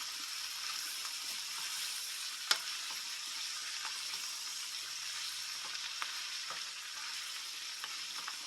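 Cabbage with onions and garlic stir-fried in a big wok, giving a soft, steady sizzle with scattered clicks and taps of stirring, one sharper scrape early on, fairly quiet and close without speech.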